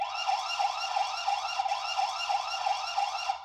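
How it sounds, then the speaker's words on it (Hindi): A security camera's built-in alarm siren wails loudly in a fast, repeating up-and-down electronic sweep, cycling steadily with no other sounds around it. "इस पर्टिकुलर कैमरा में एक सायरन बजेगा।"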